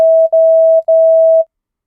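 A clean, steady electronic beep in long dashes broken by short gaps, ending in silence.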